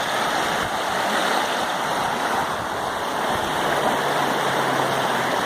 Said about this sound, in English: Water flowing out the river, flowing underneath the ice.